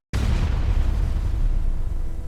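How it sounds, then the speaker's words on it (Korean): A single loud gunshot rings out from a hunter's gun in a folk-tale dramatization, an abrupt sharp onset followed by a long booming, rumbling decay that fills the whole clip. "총성은 울렸고 금기는 깨졌습니다."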